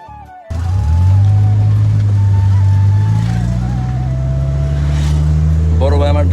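A car on the move, its engine humming steadily and loudly from inside after a quiet start, with a voice speaking briefly near the end.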